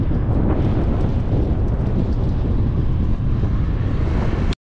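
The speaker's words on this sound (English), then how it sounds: "Oh man, the wind. Headwind of pain." A strong headwind buffets the microphone during a bikepacking ride on open country roads in Andalusia, Spain, making a loud, steady, roaring rumble that runs unbroken and then cuts off abruptly.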